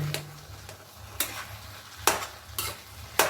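Coarse semolina mixture being stirred in a pan with water, a low background hiss broken by a few sharp spoon scrapes against the pan at irregular intervals, close and fairly quiet, no voices.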